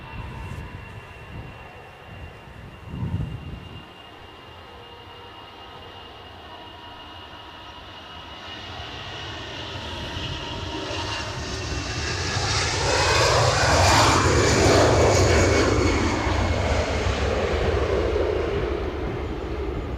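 A Ryanair jet airliner takes off at Edinburgh airport, its engine roar building steadily from a distant rumble to a loud, wide whine and rush that peaks and holds toward the end.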